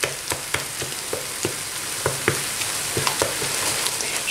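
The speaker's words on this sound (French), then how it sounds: "Je la laisse encore 2 minutes sur le feu. en mélangeant constamment." Chicken nem filling sizzling steadily in a frying pan, with repeated sharp scrapes and taps of a utensil as it is stirred constantly, close and fairly quiet.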